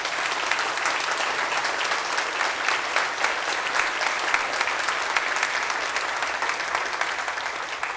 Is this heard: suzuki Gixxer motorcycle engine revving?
no